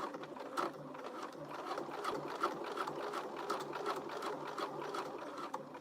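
A sewing machine runs steadily while stitching a crossbody bag, a close, continuous mechanical whir with a fast rhythmic needle clatter that holds for the whole stretch without pause.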